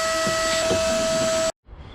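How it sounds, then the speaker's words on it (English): A vacuum cleaner sucks sawdust out of a square drop camper under construction, its motor a loud, steady whine with a fixed tone that cuts off abruptly after about a second and a half. "I'm going to give it a bit of a vacuum first"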